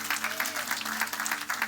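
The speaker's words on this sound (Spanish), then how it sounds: "Denle un aplauso bien fuerte al Señor." Congregation applauding the Lord in church during a Spanish-language service, a steady wash of clapping over a sustained low musical tone, lasting under two seconds.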